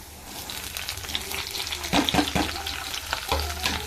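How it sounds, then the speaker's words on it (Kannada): Gravy ingredients, including poppy seeds, fry in hot oil with a steady close sizzle, broken by scraping stirs and a few sharp clatters of a spoon against the pan. "ಚೆನ್ನಾಗಿ ಫ್ರೈ ಮಾಡ್ಕೊಳ್ಳೋಣ."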